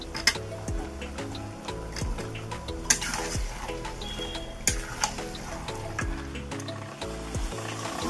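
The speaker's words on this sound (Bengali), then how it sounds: "আর আলুগুলো তার মধ্যে দিয়ে একসঙ্গে ভালো করে নেড়ে নিচ্ছি।" Potatoes being stirred into meat cooking in a pan, with a continuous close sizzle of frying and repeated scraping and clinking of a spoon against the pan, at a moderate level throughout.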